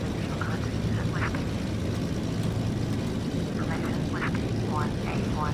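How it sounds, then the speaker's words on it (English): Aircraft engine running steadily in Microsoft Flight Simulator X after start-up, a loud continuous broadband drone with a few faint higher tonal chirps over it, no gaps throughout. "Alright, so got the plane started."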